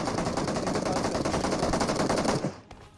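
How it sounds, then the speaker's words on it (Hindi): Automatic gunfire rattles in the video game BGMI (PUBG) as a dense, loud, continuous burst of rapid shots that cuts off sharply near the end. "भाई वहां से फायरिंग की साउंड आ रही थी"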